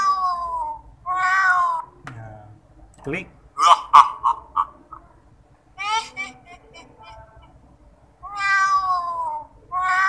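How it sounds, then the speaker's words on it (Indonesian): Several short cartoonish cat meows from a Scratch horror game come in bursts between clicks, with a brief spoken word in between. "saya masukkan suara kucing"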